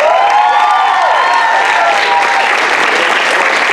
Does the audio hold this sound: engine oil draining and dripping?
no